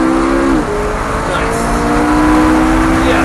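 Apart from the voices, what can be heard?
Lamborghini or McLaren sports car driving on a track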